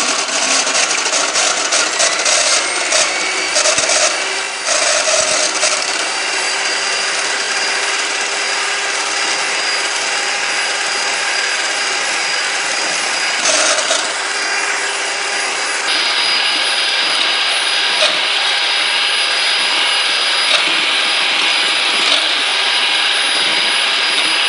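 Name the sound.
electric mixer whipping cream for strawberry cake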